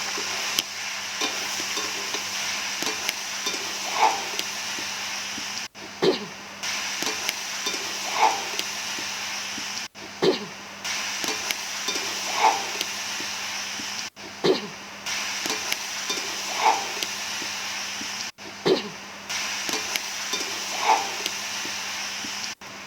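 Bottle gourd with prawns is stirred in a hot pan for a Bengali lau chingri, a steady low sizzle with a spatula scraping through it every few seconds in a slow, regular rhythm.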